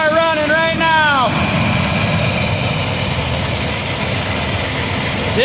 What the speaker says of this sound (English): It's kind of hard to hear, but we have the car running right now.